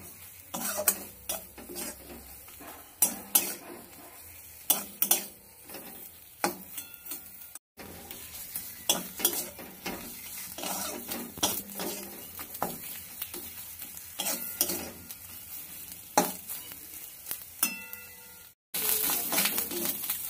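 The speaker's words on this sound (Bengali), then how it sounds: "লাউ পাতাটা ভাজতে ভাজতে দেখুন অনেকটা কালো হয়ে গেছে" Continuous sizzling of bottle gourd leaves frying in a pan, with repeated scraping and clinking as a utensil stirs them, steady throughout.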